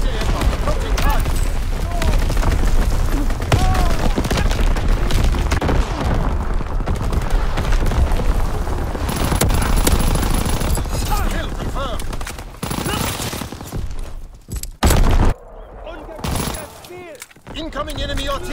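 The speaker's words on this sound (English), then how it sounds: "Incoming enemy artillery! Get to cover!" Enemy artillery and gunfire in the World War II shooter Call of Duty WWII, a dense, continuous barrage of blasts and shots, loud and close, with voices shouting through the chaos.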